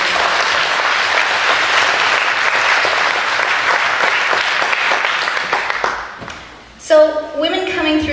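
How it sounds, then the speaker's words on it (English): Concert audience applause for BCAA and the United Way at a dessert concert, a loud, sustained clapping crowd that fades out at the end before a voice speaks. "So let's give BCAA and the United Way a round of applause."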